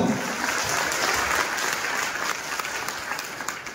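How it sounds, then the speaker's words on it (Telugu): Sustained audience applause at a memorial meeting, a dense, steady wash of many hands clapping that carries on without a break and fades slightly toward the end. "వారికి మరొక్కసారి చప్పట్లతో వారికి నివాళులు అర్పిద్దాం."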